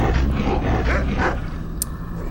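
An armored dog in an Elder Scrolls video game barks a few times, close and fairly loud, over a low ambient game rumble, with a brief sharp chime near the end.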